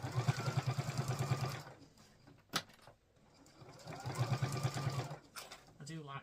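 A domestic sewing machine stitches a seam at a half-inch allowance. It runs in two steady, close bursts of fast, even whirring, with a short pause and a sharp click between them.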